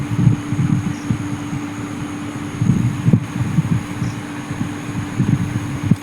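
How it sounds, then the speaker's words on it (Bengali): Ginger and cumin being ground on a shil, a flat grinding stone, with a stone roller: a steady run of rhythmic, low rubbing strokes, close by and without talk. "এরপর আমি শিলে একটু আদা একটু জিরে বেটে নেবো"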